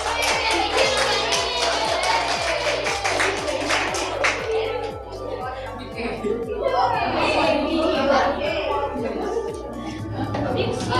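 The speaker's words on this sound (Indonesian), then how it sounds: "Beri tepuk tangan untuk Endang." A class of student teachers claps for a classmate going up to present, a steady patter of hands under lively chatter and voices, with rhythmic tapping running through the whole stretch.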